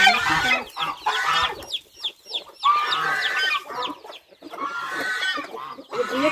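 Hen clucking loudly and repeatedly in short agitated bursts as she defends her chicks on a farm where eggs are hatched, with overlapping calls close by and no talk.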